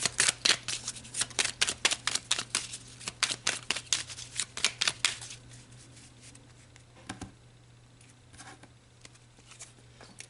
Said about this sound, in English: let's pull some more cards to look deeper about these manifestations